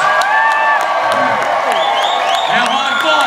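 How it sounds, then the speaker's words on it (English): A Butlins holiday camp audience cheers and whoops over continuing applause at a stage show, loud and lively with rising shouts and excited voices throughout. "Now the cheers."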